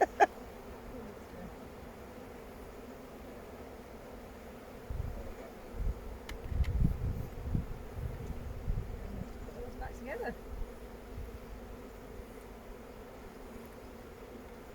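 Honey bees swarm around a hive at a bee school in Scotland, a soft, steady low buzz that swells in the middle and runs faintly beneath a person talking.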